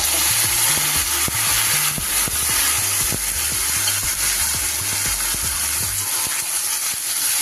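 Steady loud sizzling of tomato, soy and green chili sauces in a hot frying pan for restaurant-style chilli chicken, with faint rhythmic stirring clicks underneath.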